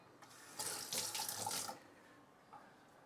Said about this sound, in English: let me wash this